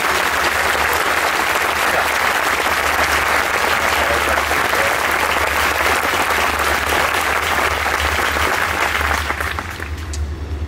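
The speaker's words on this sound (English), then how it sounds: "Will you all join me in a round of applause for the United States Military Academy class of" An audience at a West Point ring ceremony applauds the United States Military Academy class of 1965, dense sustained clapping from a large crowd that holds for about ten seconds before tapering off.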